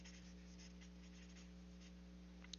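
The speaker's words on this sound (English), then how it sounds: "Let me write it down." A pen or pencil writes by hand on paper while math notes are taken, with soft, faint scratching strokes over a steady low electrical hum, close and quiet.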